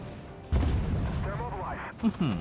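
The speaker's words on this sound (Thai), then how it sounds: "นี่เพื่อนยิงไปนะครับ" Tank cannon shots in the online game Armored Warfare with a TR-85M1 Bizonul: a heavy boom opens, followed by a rumbling tail and two quicker, sharper blasts near the end.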